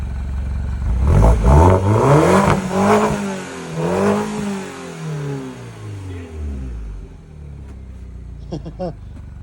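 A Mini Cooper S with the N18 engine (R55–R61 generation), fresh from a timing chain and valve stem seal replacement, revs up and down in the background in rising and falling sweeps before settling to a steady idle.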